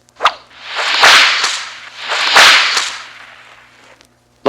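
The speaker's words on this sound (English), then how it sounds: "You will know it is time to turn the page when you hear the bullwhip crack like this" Two loud whip cracks with whooshing swings from a bullwhip, the page-turn cue of a 1980s Indiana Jones and the Temple of Doom read-along book and record set, each crack sharp and close, separated by about a second.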